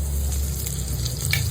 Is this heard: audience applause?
no